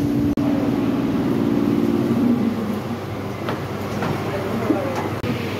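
Steady rumble and rattle from inside a moving passenger train in India, with wheel hum and occasional clanks, heard close and continuous alongside faint background chatter.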